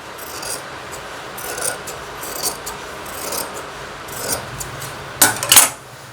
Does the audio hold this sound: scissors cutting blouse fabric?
yes